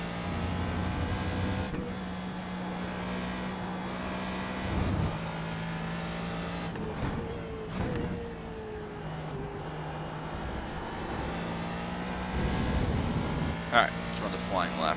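Ford GT2 race car engine in the iRacing game, revving through gear changes with rising and falling tones, sharp blips on downshifts, and continuous mechanical drone.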